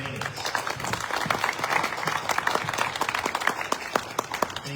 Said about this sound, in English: Will you please give a round of applause for these candidates?